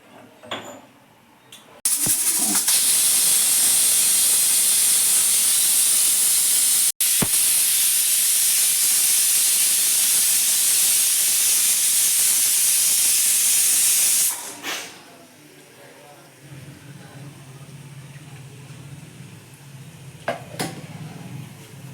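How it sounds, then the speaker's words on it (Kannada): Loud, continuous hiss of steam blasting from a pressure cooker as its whistle is lifted after cooking biranji rice, lasting about twelve seconds before stopping abruptly, followed by quieter kitchen clatter and handling noises. "ಈಗ ನಾನು ವಿಸಿಲ್ ತೆಗಿತಾ ಇದ್ದೀನಿ"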